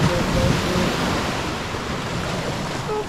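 Waves break and wash along Malindi beach at sunrise, a dense, even hiss of surf with a slightly louder swell at the start, heard alone without speech.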